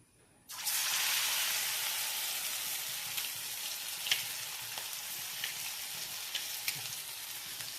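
Egg bajji in batter drops into hot oil and bursts into a loud, close sizzle that settles into steady frying with small pops and crackles, alone without talk.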